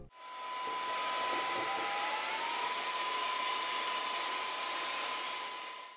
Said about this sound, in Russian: пылесос после обнаружения более сложных загрязнений в лице кетчупа и майонеза сам увеличил мощность всасывания